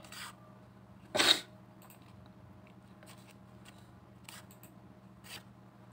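Scissors snip through material while a towel is folded into a rose, with one loud close cut early and a few faint clicks over a quiet background hum.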